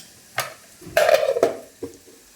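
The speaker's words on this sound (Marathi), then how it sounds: "त्याला मस्त एक मिक्स करून घ्यायचं" Masala and turmeric are stirred in a hot frying pan, producing a few short scraping strokes and one longer sizzling scrape, close and distinct against a quiet background.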